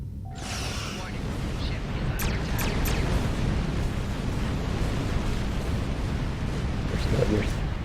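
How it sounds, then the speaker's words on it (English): Pulse cannons fire in a space video game, a dense rumbling barrage of bursts and booms that stays loud and continuous throughout, with crackling high impacts near the start. "You're still using the pulse cannons."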